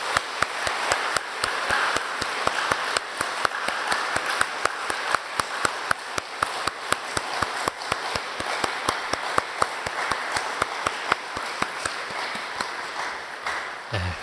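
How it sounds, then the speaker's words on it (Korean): A church congregation claps during a Sunday worship service, a steady run of many hands at moderate volume with distinct individual claps cutting through, continuing for the whole stretch. "우리 뜨거운 박수로."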